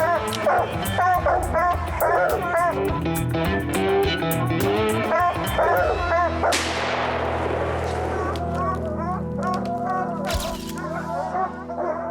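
Hunting dogs bark and yip at a cat treed in a northern wilderness, loud and near with rapid overlapping barks throughout, joined by a sharp crash midway and brief whimpers, while people talk over the commotion.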